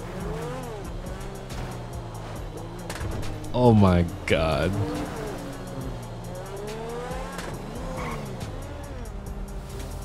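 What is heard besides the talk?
Lamborghini car engine in video game GTA 5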